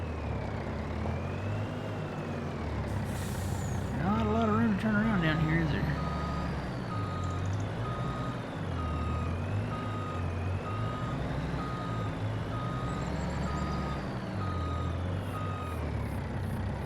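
A truck in Farming Simulator 25 reverses a trailer on a Montana farm map, steady reversing beeps repeating over a continuous low engine drone, with brief talk partway through.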